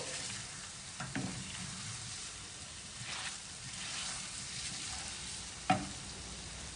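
A valsan mixture sautés in ghee over a medium flame, giving a soft, continuous sizzle with occasional scrapes and taps of the stirring spoon against the pan, close and quiet.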